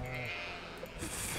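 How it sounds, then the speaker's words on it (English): A sheep in the farming game Stardew Valley gives a short bleat over the game's background music, moderately loud, with no talk over it. "One of these sheep is very sad, because he's a baby, but hasn't been loved."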